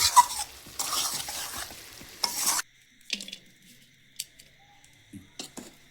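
Meat for biryani being stirred and mixed in a pot: bursts of sizzling and scraping for about two and a half seconds, then quieter intermittent clinks and scrapes.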